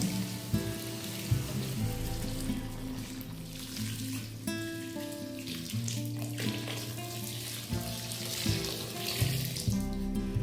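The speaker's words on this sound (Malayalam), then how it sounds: "ഇനി ഇതിലേക്ക് ചൂടുവെള്ളം ചേർത്ത് കൊടുക്കണം ചൂടുവെള്ളം തന്നെ ചേർത്ത് കൊടുക്കണം" Hot water poured into a pan of chicken madhooth, a continuous close splashing pour over a hissing sizzle, steady and fairly loud for the whole stretch with brief shifts in flow.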